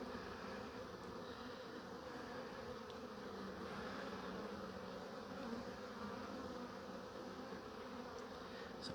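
Honeybees buzzing in an open hive during an inspection, a dense, continuous, fairly quiet drone of many wings with no voices.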